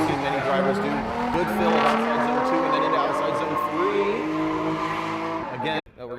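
A drift car in a racing video game slides under the handbrake, its engine droning and tires squealing steadily before a sudden cut near the end. A commentator talks over it.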